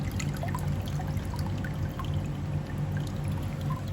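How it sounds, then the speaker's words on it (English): Water runs through home hydroponic piping, a steady close pouring and trickling flow with a constant low hum underneath and no talking. "more water flows through the piping."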